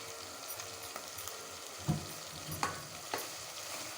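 Masala with salt and chilli powder frying in a pan for fish curry, giving a steady low sizzle with a few sharp clicks of a spoon against the pan.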